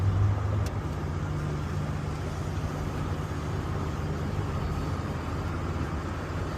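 A 1985 Cadillac Eldorado engine runs quietly and evenly, a smooth low steady hum with faint road rumble and no voices, on a test drive.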